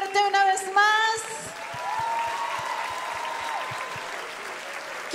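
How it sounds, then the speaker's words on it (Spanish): An audience at a Christmas 2021 event applauds. A voice comes first, then a sustained wash of clapping continues with tonal music or voice beneath it. "Un aplauso fuerte una vez más."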